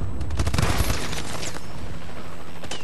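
Rapid bursts of machine gun fire from a Call of Duty Advanced Warfare Domination match, dense and loud at first, then thinning into sporadic distant shots.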